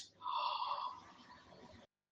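A deep breath drawn in during a guided meditation, a single soft airy inhale lasting about two seconds, close and quiet, ending in silence.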